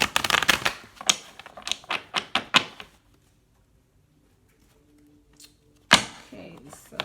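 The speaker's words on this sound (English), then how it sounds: "All right, one more shuffle" A quick run of crisp riffling snaps from tarot cards being shuffled close by, then a quiet pause with a faint hum, and one more sharp flurry of card noise at the end.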